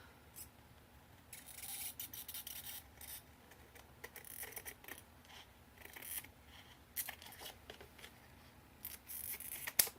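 Scissors cutting material for handmade dress tags, a quiet run of irregular snips and rubbing scrapes at close range, with no talking.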